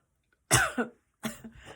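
Two short, dry coughs, a brief pause between them, close and fairly soft in an otherwise quiet room.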